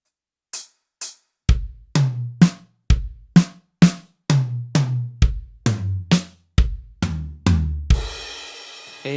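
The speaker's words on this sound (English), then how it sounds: "So here's drum fill 3, really slow, sounds like this." A slow linear drum fill moving from snare to high tom: evenly spaced single hits ring out one after another, with a crash cymbal washing in at the end.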